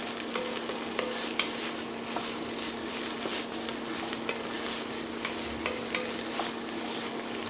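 Garlic sautéing with onions and vegetables in a Dutch oven for andouille sausage chili, a steady soft sizzle with occasional stirring scrapes and clicks, no talking.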